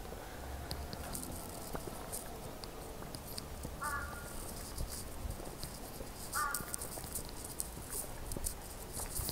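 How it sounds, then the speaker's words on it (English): A crow caws twice, in separate short bursts, out in the open among city buildings, heard over steady outdoor background noise with no one speaking. "Bird."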